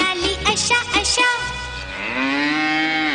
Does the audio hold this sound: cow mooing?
yes